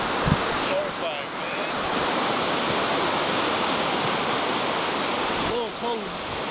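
Floodwater from heavy rain rushes through a flooded village in West Virginia, a dense continuous roar of churning water, loud and steady from start to finish with a few faint bumps on top.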